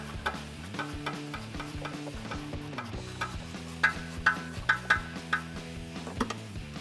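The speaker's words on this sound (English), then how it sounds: "we're basically gonna go in here with a 1/4-inch ratchet and a 13 short socket and get this guy off by hand" 1/4-inch ratchet with a 13 short socket turning an exhaust bracket bolt on a 2011-2014 Mustang GT, a series of quick, close metallic clicks in irregular bursts over a humming music bed, with no talking.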